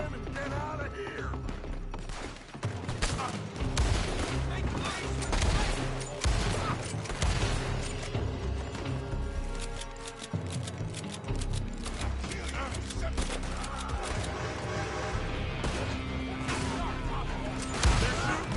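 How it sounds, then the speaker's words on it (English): Dense gunfire erupts from a building in the Red Dead Redemption 2 video game, a loud, continuous fusillade of overlapping shots and crashes running for the whole stretch, with game voices underneath. "They're shooting from that building."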